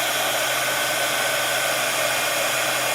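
A heat gun melts embossing powder on cardstock, giving off a steady loud whooshing blower roar that stays constant throughout with no talking.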